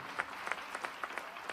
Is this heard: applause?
yes